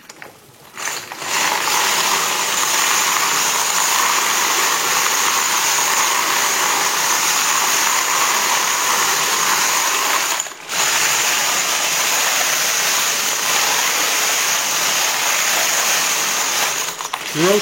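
A wet rotary tumbler loaded with steel pins, water and brass churns with a steady, loud, dense rattling hiss that runs almost continuously, with one brief break partway through.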